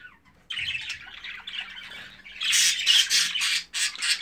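Jumbo crested budgerigars squawk harshly at close range, with a burst of chatter that grows louder and denser toward the end.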